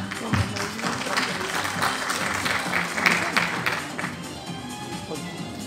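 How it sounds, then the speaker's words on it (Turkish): An audience at a graduation ceremony for fine arts kids applauds loudly and steadily, a dense crowd of clapping hands with a few murmured voices underneath. "Alkışlar bu kadar mı efendim"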